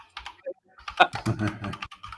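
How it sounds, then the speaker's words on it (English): Computer keyboard typing: a flurry of quick, irregular key taps, close and fairly loud, with brief pauses between bursts and no speech over it. "Who's typing?"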